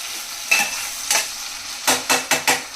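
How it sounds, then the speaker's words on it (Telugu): Tomatoes sizzle softly in a frying pan, softening for a fish and brinjal curry, while a utensil scrapes and stirs them in a few quick bursts close by. "ముందు టమాటాలు వేసేసాను. ఇవి కొంచెం మగ్గనిద్దాం."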